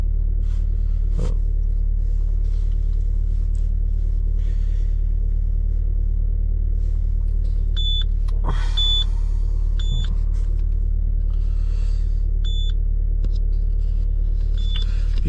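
Citroën C4 Grand Picasso engine idling with a steady low rumble, a couple of sharp misfire pops breaking through, while an instrument beeps briefly several times in the background.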